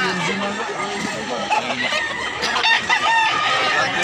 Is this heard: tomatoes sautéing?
no